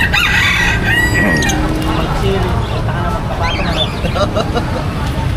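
Chickens, roosters and ducks crow, cluck and quack amid the busy outdoor bustle of the Del Monte market in Bulacan, with people talking nearby throughout.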